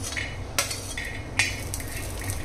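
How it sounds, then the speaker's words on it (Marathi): Raw peanuts are tipped into a pan for dry roasting, with two sharp metallic clinks and a scraping stir against the pan over a low background hum. "यानंतर आपण यात घालणार आहोत शेंगदाणे."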